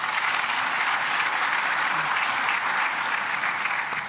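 Audience applause fills the room at the close of a panel discussion during a conference closing ceremony, a steady, dense wash of clapping that holds at even loudness for the whole stretch.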